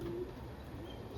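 Racing pigeons back at their loft after a training flight give a brief, soft cooing sound, close by and quiet over faint background.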